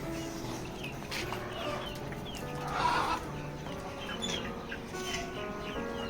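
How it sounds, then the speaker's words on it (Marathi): Free-range village chickens on a poultry farm cluck and murmur softly nearby, a scattered flock sounding calm and continuous, with one louder squawk midway. "आपल्या कोंबड्या मस्त बसलेल्या आहेत सर्व छानपैकी"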